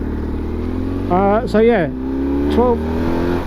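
A BMW GS 1150 motorcycle engine runs with a steady low drone throughout, while someone talks over it at close range.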